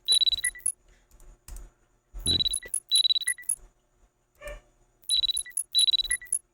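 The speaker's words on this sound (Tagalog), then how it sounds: "The alarm is ringing." A chirping electronic alarm clock rings in the video game Parasocial, bursts of rapid high beeps repeating in clusters with short gaps between them, loud and close, with no talk over it.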